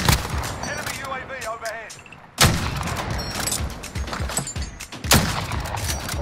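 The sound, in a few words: shotgun firing in Warzone video game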